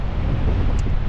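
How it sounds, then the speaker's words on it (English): Wind blows outdoors at Hetch Hetchy in Yosemite, a steady low rumbling buffet against the microphone lasting about a second with no voices. "it's a little windy in these parts right here"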